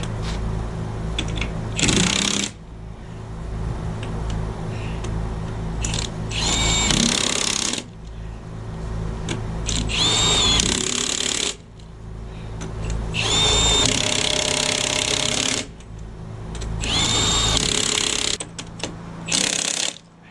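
Battery impact tool running low on charge, tightening wheel hub bolts on a trailer during a hub rebuild: repeated bursts of whirring and ratcheting hammering, each a few seconds long, close and loud with short pauses between.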